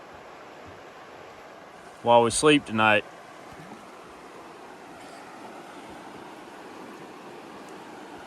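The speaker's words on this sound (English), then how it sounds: "So we'll get to have that nice sound of running water" Running water over river shoals on the Etowah River, a steady broadband rush lasting throughout, with a brief burst of nearby talk partway through.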